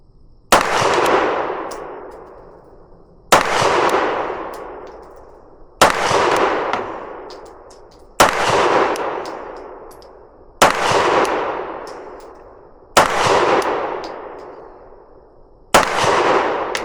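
Glock pistol with KNS flip-up sights fired downrange, seven sharp, loud shots spaced about two and a half seconds apart, each with a long decaying echo across an outdoor range.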